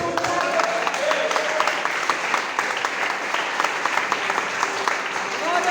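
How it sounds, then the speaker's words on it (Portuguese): Church congregation applauding during a Portuguese-language sermon, steady dense clapping from a crowd filling the whole stretch, with faint voices mixed in. "Você pode aplaudir o seu Deus."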